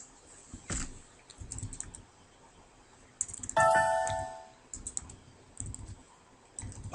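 Typing on a computer keyboard, with scattered clicks and short bursts of keystrokes at moderate level, plus a brief chiming tone partway through.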